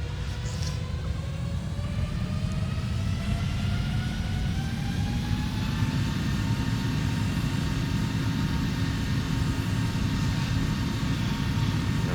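An airliner takes off in a flight simulator video game: a steady, loud jet engine roar with rising whining tones as the engines spool up, continuous throughout with no talk.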